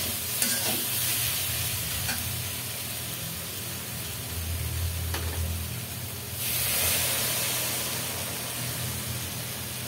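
Water added to a simmering pan of fish curry with eggplant and potato: a soft steady sizzle with a few clicks, then a sudden louder hiss and rush as the water hits the hot pan, close by.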